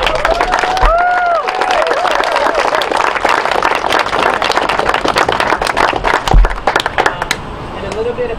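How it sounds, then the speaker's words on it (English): An audience gives a round of applause and cheers at a house giveaway event, continuous loud clapping filling the clip with a few whoops rising above it. "So I want to give a round of applause to housegiveaway.org"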